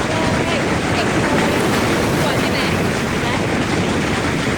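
Sea waves wash onto a beach at Hua Hin in a constant, loud surf roar mixed with wind buffeting the microphone, with no breaks between surges.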